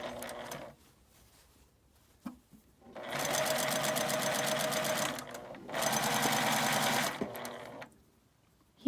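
Sewing machine stitching a 1.5 cm seam on a lined drawstring bag, two steady runs of rapid needle chatter each a few seconds long, separated by quiet pauses with small clicks, close and clear.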